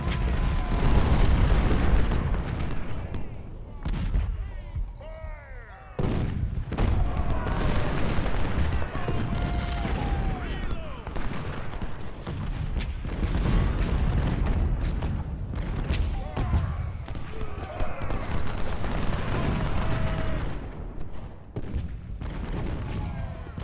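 Artillery batteries firing in an American Civil War battle in Ultimate General: Civil War, a steady barrage of booming cannon shots and scattered gunfire rolling on through the whole stretch, dense and continuous with short lulls.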